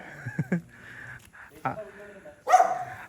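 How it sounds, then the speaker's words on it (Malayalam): A dog barks a few times, sharp and fairly close, mixed with other voices and a higher yelp near the end. "ആ വീട്ടിൽ ആളില്ല അവിടെ ബ്യൂട്ടിഫുൾ പട്ടിയുണ്ട്"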